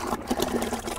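Cow dung and water slurry being poured into a biogas digester, a steady sloshing, gurgling flow close by that runs continuously for about a second.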